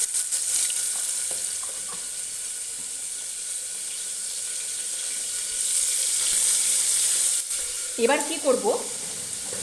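Shrimp marinated in salt and turmeric, squeezed of excess water, hisses in a hot pan with a steady, bright sizzle that swells midway. A person speaks briefly near the end.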